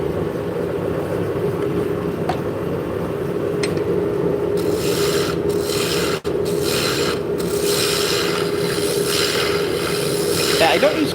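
A carbide tool scraping a spinning wooden bowl on a lathe, a continuous humming motor with scratchy rasping cuts that grow louder and more textured in the second half, close and steady.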